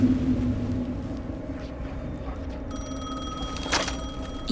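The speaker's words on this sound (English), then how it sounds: "The phone again." A telephone rings in the Alan Wake II video game, a bright electronic bell burst standing out over a low ambient drone, with no talk.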